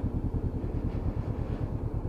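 Honda CB500 motorcycle with an aftermarket exhaust can, idling in a steady, low, pulsing burble up close, the regular thumps continuous throughout with no talk.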